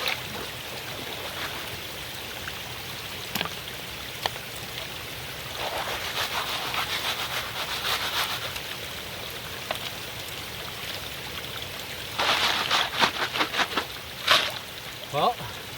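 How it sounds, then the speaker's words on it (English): Gold panning in a cold, small, steep creek in winter: gravel and water slosh and swirl in a heavy pan over the steady rush of flowing water, with louder bursts of swishing and rattling near the end. "Goodbye warm hands, hello gold panning."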